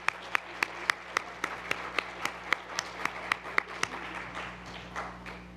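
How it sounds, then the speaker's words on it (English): A room of attendees at a social work adjunct and field instructor appreciation event gives a round of applause, a steady run of claps with sharper individual hand claps standing out, lasting several seconds. "one more round of applause for Mary"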